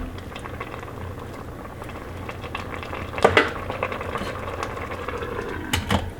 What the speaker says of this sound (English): I've got that to come to a boil now